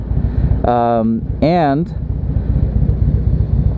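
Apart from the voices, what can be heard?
strong wind during motorcycle trip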